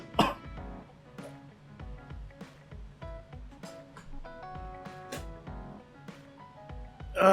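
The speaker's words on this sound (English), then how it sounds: "I just had a huge coughing fit." A person has a coughing fit, with repeated harsh coughs and throat clearing, loudest at the start and end, over a melodic video game soundtrack.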